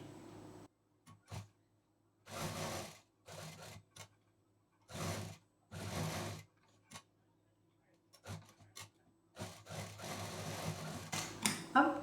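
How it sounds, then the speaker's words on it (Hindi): A sewing machine stitches cloth for a bag in short repeated runs of rapid mechanical whirring, close by, separated by silent pauses while the fabric is repositioned. "तीन साइड में सिंगल फोल्ड करके सिलाई कर देंगे।"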